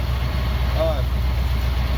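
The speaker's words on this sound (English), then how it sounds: "Engine sounds great up here." A 1969 Chrysler 300 street machine engine runs at a steady, low idle with a loud, continuous rumble, close by, and a brief whistle rising over it partway through.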